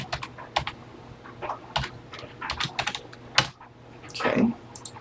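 Keys clacking on a TI-99/4A home computer keyboard, a series of irregular close taps spread over several seconds with brief pauses, ending in a slightly longer rattle.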